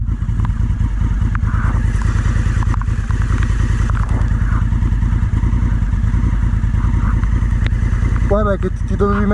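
A motorcycle rides along with its engine droning loud and close, a continuous rumble with slight rhythmic pulsing, then a brief flurry of higher chirping sounds near the end.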